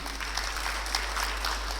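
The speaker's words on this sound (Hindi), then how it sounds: "ताली बजे" An audience at a light and sound programme event applauds: dense, steady clapping from many hands, fairly close and continuous for the whole moment.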